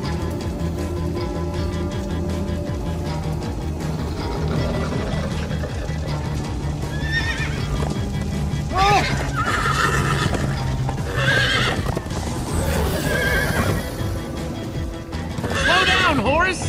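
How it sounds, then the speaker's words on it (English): Horses neigh and whinny repeatedly over galloping hooves and dramatic game music in Minecraft: Story Mode, as riders flee the Wither Storm; loud, busy and continuous, with several shrill whinnies rising through the mix. "Horses!"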